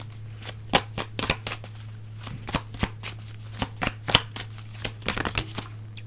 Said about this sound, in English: And we'll pull cards from here.